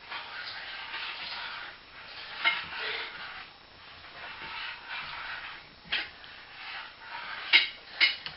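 Caramel being mixed in a pan by a child at home, a steady scraping stir with occasional louder knocks of the utensil against the pan, close and fairly quiet, with no talking.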